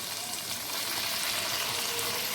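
Chicken pieces fry in hot oil in a pan with whole spices for Chinese biryani, giving a steady, dense sizzling hiss at close range with no pauses.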